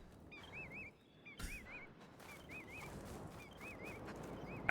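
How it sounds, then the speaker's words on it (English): A gull calling in the video game Horizon Forbidden West, giving about five short warbling cries at regular intervals over a quiet ambient backdrop, fairly faint and with no speech. "Where's that gull? I hear you."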